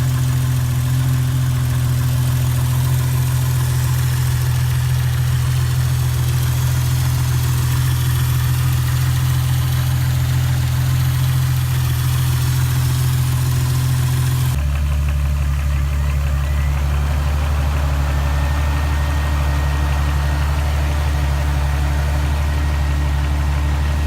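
A car engine idles steadily with a deep, constant hum while three newly installed electric cooling fans run under a fan controller, the tone shifting partway through as the fans change speed.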